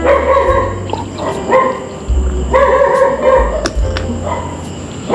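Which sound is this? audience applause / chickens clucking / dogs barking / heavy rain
dogs barking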